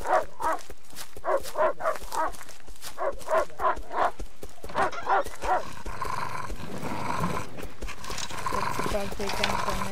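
A dog in the Rust video game, repeated rhythmic barks or growls in a steady series, then a rougher, noisier stretch of snarling and scuffling, all loud and near.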